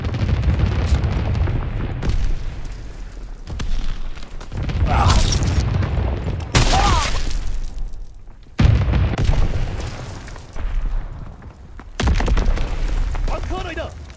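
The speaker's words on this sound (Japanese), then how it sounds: "グレネード行くぞ。" Grenade explosions in the World War II shooter game Call of Duty: WWII: several heavy booming blasts at intervals, set among continuous loud gunfire and battlefield noise.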